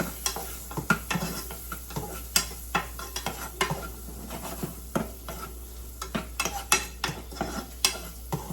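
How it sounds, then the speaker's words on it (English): Butter-sautéed soup ingredients sizzle in a pot while a spoon stirs them, with repeated sharp scraping knocks against the pot in an irregular rhythm over a steady background sizzle, close and clear, no talking. "We're gonna let that saute for a little bit. I'm actually gonna mix it up."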